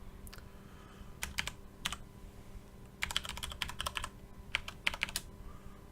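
Keys clatter on a computer keyboard as login details are typed, in short irregular bursts of quick taps with pauses between, close and quiet over a faint room hum.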